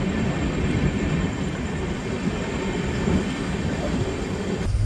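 A general coach of the 12343 Darjeeling Mail train from Sealdah in motion, with a loud, steady rumble of wheels on rails and a continuous rattling roar that drops off abruptly at the end.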